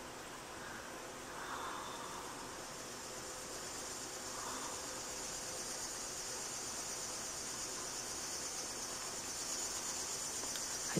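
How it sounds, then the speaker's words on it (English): A steady, dense insect buzz fills the background, constant and high-pitched throughout, with no voices. "I think the cicadas are out because they're making a lot of noise."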